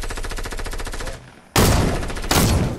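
Rapid automatic gunfire in Fortnite rattles for about a second, followed after a brief pause by two loud, sharp bursts of shots, close and prominent with no talking.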